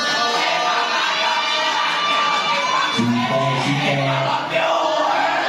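An audience at a live Islamic memorization competition (Musabaqoh Tahfidzul Mutun) applauds and cheers for a contestant, Mang Sipa from Brebes, a steady crowd roar with shouts and a sustained voiced tone rising midway.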